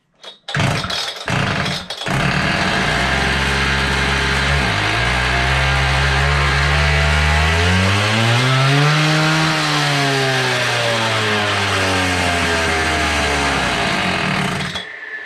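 A Hilti DSH700 cut-off saw with a newly fitted carburettor gives a few sputtering pulls, then its two-stroke engine runs loud and close, revving up and back down before holding a high, steady drone.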